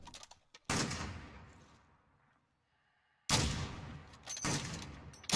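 Gunfire from an enemy team in a video game: two loud bursts of shots, each a rapid volley that tails off into echo, separated by a quiet pause.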